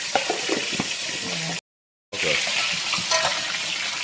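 Fish frying in a pan for Jamaican brown stew fish gives a steady, close sizzle and crackle, broken by a brief moment of silence before the frying resumes.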